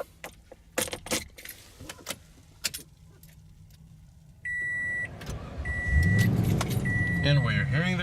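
A 2017 Toyota Tundra SR5 TRD Off Road with a 5.7 liter V8 and no push-button ignition: keys jangle, the starter cranks briefly, then the engine catches and settles into a deep, steady idle up close.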